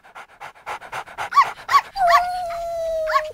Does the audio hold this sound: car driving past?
no